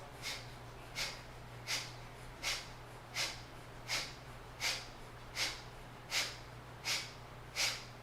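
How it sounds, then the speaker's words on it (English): Skull shining breath in a yoga practice: about ten forceful nasal exhales in a steady, evenly spaced rhythm, close and fairly quiet over a low constant hum. "Skull shining breath, forceful exhales."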